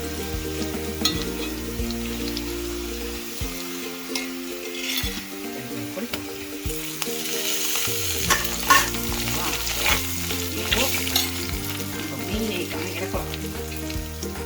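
Dried red chillies frying in hot oil while making pulicha keerai thokku, a loud, continuous crackling sizzle with occasional stirring scrapes and steady background hum, no one speaking.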